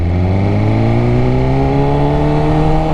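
A flashed 2020 BMW S1000RR liter sport bike accelerates hard, its engine note climbing steadily in pitch as it pulls, loud and close with wind rush underneath and no talking.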